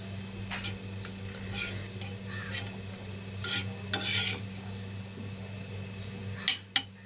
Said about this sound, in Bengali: ব্রাউন আমাদের হয়ে গেছে, একটু নাড়িয়ে চাড়িয়ে নিচ্ছি